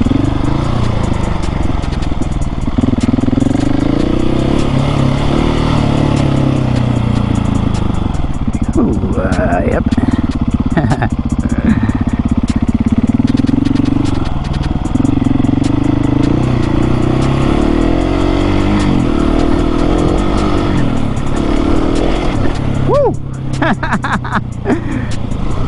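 A supermoto motorcycle on Pirelli Scorpion Rally rear and Rally STR front tyres revs hard on dirt. The loud, steady engine rises and falls in pitch as the wheel spins, with brief voice sounds over it.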